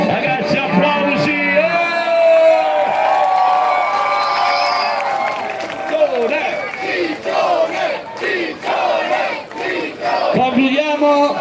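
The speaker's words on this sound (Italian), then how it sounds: "ragazzi applausi!" A crowd in an Italian town square roars and cheers after a folk song, with loud sustained shouting and whooping that swells, then breaks into scattered yells and cries near the end.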